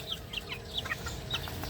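Native chickens cluck softly near their chicks, a brief series of close, short clucks and chirps over a low background hum.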